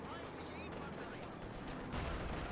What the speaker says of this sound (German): Irgendwie ging der Schuss wieder vorbei